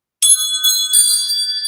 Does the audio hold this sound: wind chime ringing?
yes